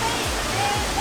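Steady roar of a waterfall at Paige Falls or Broadwater Falls in Arkansas, a constant broadband rush of falling water heard up close with no talk over it.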